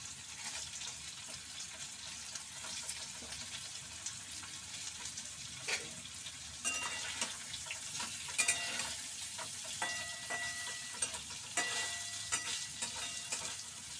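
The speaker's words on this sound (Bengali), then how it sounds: "পনিরগুলো ভেজে আমি তুলে নেব।" Paneer pieces fry in a pan over a low flame with a steady, close sizzle throughout, and occasional soft stirring scrapes and clicks. No one speaks.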